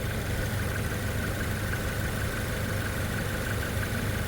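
A 2011 Suzuki Kizashi AWD with a 2.4-liter four-cylinder idles steadily with a faint vibration, making a continuous, even, low hum close by that holds unchanged throughout.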